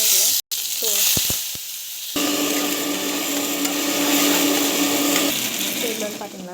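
Mustard seeds, cumin and curry leaves crackle and sizzle in hot oil for a Tamil home-cooked vegetable stir-fry, beginning with a few sharp pops and clicks before a steady loud hiss takes over.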